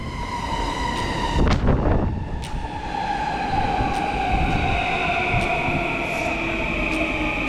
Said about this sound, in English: On my way to Kyoto. Gonna ride the Shinkansen bullet train.